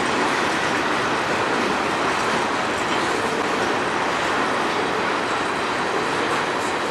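A CN freight train with its locomotives rolls past close by on the Strathroy Subdivision, a loud, continuous rumble and wheel rush that holds steady throughout without any voices.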